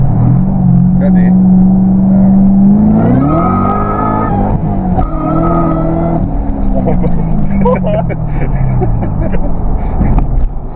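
A Ford Mustang GT500 with traction control on revs hard, its engine note climbing sharply and then easing back, loud and close from inside the car, with people's voices in the background.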